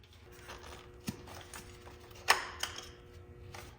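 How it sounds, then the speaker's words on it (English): A BMW M5 V10 throttle actuator's electrical connector being unplugged gives a few sharp, close plastic clicks, one stronger snap in the middle, over a faint, quiet background. "You should now be able to disconnect the throttle actuator connection."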